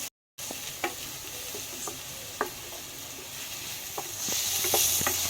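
Potatoes and onions fry in a pan for mutton fat ghugni: a steady, moderate sizzle with scattered sharp clicks from stirring, and no voices.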